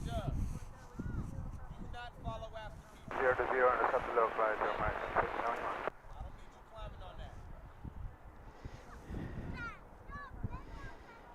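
A Boeing 767 at DFW International Airport roars past in a steady jet rumble with wind buffeting the microphone, rising to a louder stretch midway while people talk over it throughout.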